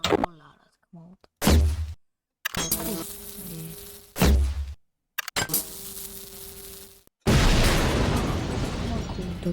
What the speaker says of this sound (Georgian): და ეს არის anti-tank mine.